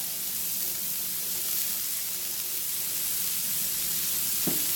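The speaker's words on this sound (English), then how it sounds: "I'm looking for a good sear." Food sears in a hot pan with a loud, steady sizzling hiss that holds the whole way through. A brief clunk sounds near the end.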